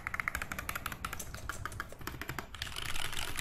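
Computer keyboard typing during a typing test in a home studio, a fast steady patter of keystrokes close to the microphone with no speech.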